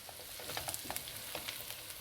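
Potato and eggplant fry in a pan as coriander powder is stirred in, producing a soft, quiet sizzle with light spoon clicks and scrapes scattered throughout.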